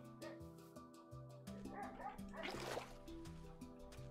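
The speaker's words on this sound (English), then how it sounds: "Why is my dog barking?" Rapid yipping barks from a dog in the Minecraft video game, repeated in a quick string over a backdrop of game music, without talk.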